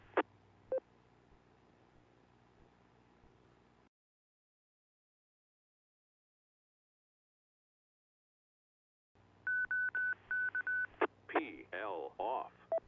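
DTMF tones sent over a ham radio repeater to set it up for net mode: radio hiss and a voice, a gap of dead air, then a rapid series of short keypad beeps followed by more transmitted sound.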